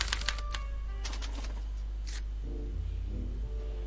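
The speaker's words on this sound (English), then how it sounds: "they're relayed to this special typewriter, which prints out a punch card that represents the subject's mind map" Mechanical typewriter-style printer in the Back to the Future video game punching a card, a quick burst of clacking strikes followed by a faint whirring feed over a steady low hum.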